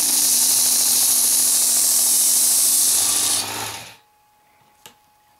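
A WorkSharp Ken Onion Edition belt sharpener grinds a knife blade with a loud, steady abrasive whir up close, then spins down to silence, followed by a single small knock.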